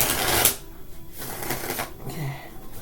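A deck of playing cards being shuffled by hand, a dense riffling burst up front followed by two softer shuffle rustles, close and alone with no talk.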